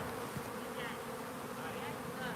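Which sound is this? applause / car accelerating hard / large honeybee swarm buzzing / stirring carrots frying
large honeybee swarm buzzing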